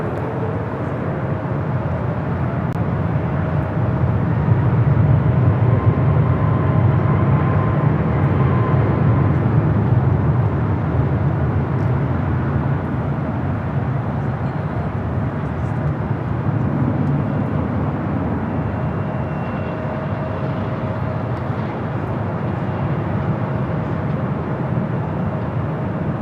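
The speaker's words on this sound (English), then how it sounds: "That aircraft landing here on the north side, runway 24 right." Aircraft landing on runway 24 right at LAX, a broad continuous jet roar that swells then slowly eases, heard from a distance with no one talking.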